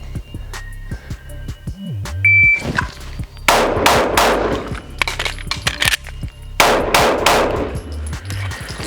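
Pistol shots from a Glock 19 Gen 5 at a shooting range during a reload drill, two rapid strings of sharp, loud cracks separated by a pause, with electronic beeps from a shot timer.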